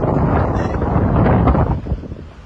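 Strong wind blows across the deck of a sailboat under way at sea, a loud, continuous, gusty rumble buffeting the microphone that eases slightly toward the end, with no voices.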